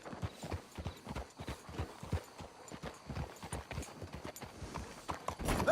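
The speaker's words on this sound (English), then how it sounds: "Let's hitch the horses up ahead." Horse hooves clip-clop steadily in a Western setting within Red Dead Redemption 2, a brisk uneven rhythm of clear, fairly close hoofbeats with faint ambient background and no talking.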